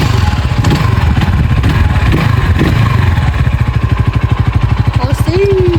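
A Mustang ST200 moped engine revs up and settles into a loud, close, rapidly pulsing idle chug. Voices are audible over it.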